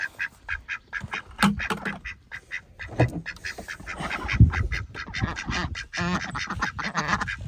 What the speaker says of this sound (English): the chickens and the ducks are happy